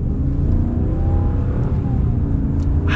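A Ram Power Wagon pickup with a 6.4 Hemi engine accelerates from inside the cab, a deep, throaty engine drone rising steadily and loud, with no talking.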